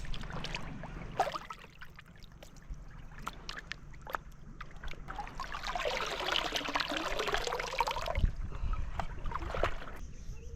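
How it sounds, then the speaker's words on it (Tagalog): Fish being washed with water at a beach-side cooking spot: a steady trickle and pouring splash swells in the middle, set against a low constant background hum with occasional clatter. "hugasan natin natin ito ng maayos para siguradong malinis"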